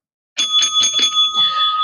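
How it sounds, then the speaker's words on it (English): A bright bell rings in a quick series of five or six dings, then holds a sustained ringing tone; loud and close, with no talking. "Ringing a bell for a real smile."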